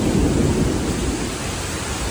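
Heavy rain pours down in a thunderstorm at a Disney's All-Star Movies resort, a loud, dense, steady roar of rainfall with a deep rumbling undertone and no voices.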